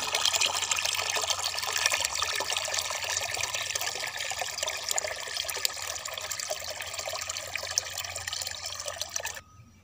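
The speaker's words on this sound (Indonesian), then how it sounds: "untuk airnya akan saya tambahin lagi sahabat ya nah ini saya tambahin lagi" Water pours steadily from a container into the reservoir of a small mini water pump, a close, continuous splashing trickle that cuts off abruptly near the end.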